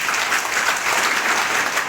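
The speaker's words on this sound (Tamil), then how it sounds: "கைத்தட்டுங்க" Steady, dense applause from a large crowd at a district education loan camp event in Dharmapuri, loud and continuous throughout.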